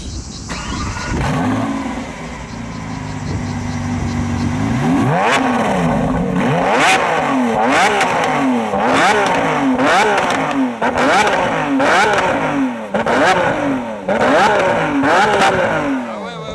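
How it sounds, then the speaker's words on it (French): A Lamborghini Aventador SVJ's V12 engine cranks and fires, then blips through a series of sharp, loud revs rising and falling repeatedly, very close and dominant. "On va démarrer le V12, on va faire quelques petites vocalises avec"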